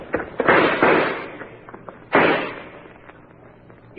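Two loud, close gunshot-like bursts a second and a half apart give covering fire in a radio drama, each followed by a decaying rumble, with no talk.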